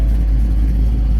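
A Ford Mustang idles on a switchable ghost cam tune, its engine giving a loud, steady low rumble with a slightly lumpy, uneven pulse heard close up, no voices.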